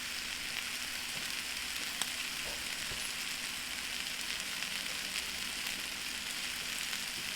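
A steady, even sizzle crackles throughout as Thai chili sauce fries in a hot pan with salmon, with no voices.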